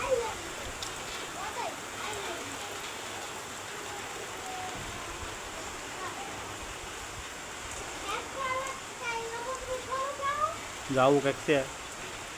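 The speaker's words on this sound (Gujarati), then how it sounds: "અમારા ગામમાં તો ફાઇનલી અત્યારે વરસાદ ચાલુ થઈ ગયો છે" Rain falls with wind in a Gujarat village, a steady, soft, broadband wash throughout, while someone talks over it and occasional tonal calls rise and fall in the background.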